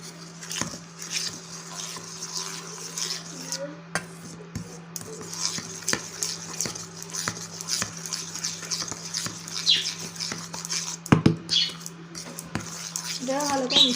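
Atta flour dough with oil being mixed by hand for village-style Bengali biscuits, giving soft, irregular stirring and patting sounds, with a few sharper clinks and a low steady hum in the background.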